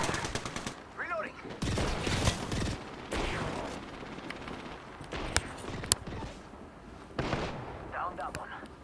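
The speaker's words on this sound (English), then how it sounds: "The enemies are shooting at me." Enemy gunfire in a battle-royale video game: loud bursts of automatic and single shots crack in rapid clusters, with players talking over the fighting.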